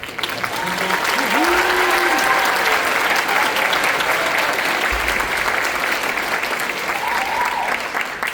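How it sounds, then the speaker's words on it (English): Steady, loud audience applause fills a school spring concert hall, continuous and even throughout with a few faint voices underneath. "Give them a round of applause."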